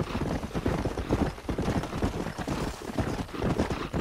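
Horse hooves clip-clop at a steady walking pace in Red Dead Redemption, moderately close, with faint background noise and no clear talk.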